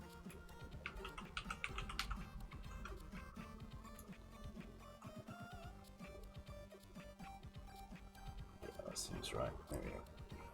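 Steady clatter of keys on a computer keyboard as values are punched into an on-screen calculator, with someone talking throughout over the close, uneven tapping.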